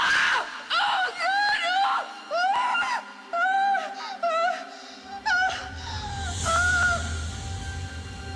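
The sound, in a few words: screaming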